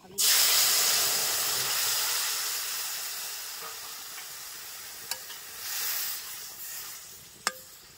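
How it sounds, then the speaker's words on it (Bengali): Spice-coated fish hits hot oil in a village kitchen wok along with cardamom and nigella seeds, bursting into a loud, steady sizzle that slowly eases off, with a couple of sharp utensil clicks near the end. "কড়াইতে যে মাছ ভাজা তেল ছিল তার মধ্যে দিব 2টা মুখ ফাটাই রাখা এলাচ, অল্প একটু কালি জিরা, মশলা দিয়ে মাখাই রাখা মাছটা এবার দিয়ে দেবো"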